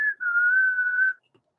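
A single sustained whistled note from a person, held steady for about a second after a brief opening chirp, clear and close in an otherwise quiet room.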